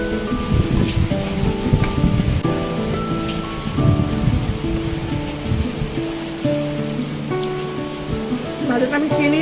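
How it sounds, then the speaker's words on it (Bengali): Rain falls steadily throughout, a dense patter close by with fitful gusts of wind, and tonal household sounds sit underneath. "বৃষ্টি চলে এসেছে,"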